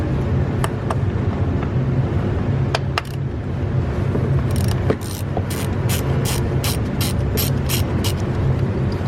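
A ratchet with a 10 mm socket loosens the ignition coil bolt on a 2013–2019 Nissan Sentra 1.8L engine, giving sparse clicks and then a quick, steady run of sharp ratcheting clicks, close up.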